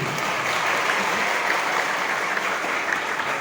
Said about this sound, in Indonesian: Woi, tepuk tangan dulu